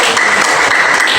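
Brief burst of dense audience applause in a classroom teaching session, loud and close, many hands clapping together without a break.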